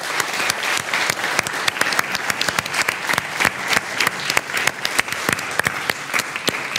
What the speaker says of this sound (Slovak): stačí potlesk pre našich hostí